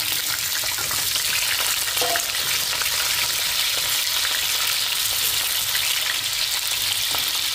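Carrots and potatoes fry in hot oil with a steady, dense sizzle that holds close and even throughout, with occasional small pops and a faint stirring scrape, and nobody speaks.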